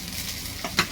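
Rice drops into a hot kadhai with a steady sizzling hiss, followed by a brief louder scrape and rustle as it lands and is stirred close by.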